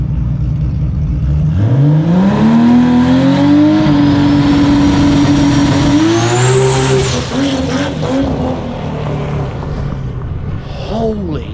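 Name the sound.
drag race car launching off the line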